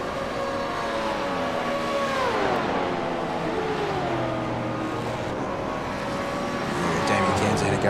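V8 race cars on the start-finish straight at VIR in iRacing, a loud sustained engine roar with pitch sweeping up and down as cars accelerate and pass, one after another.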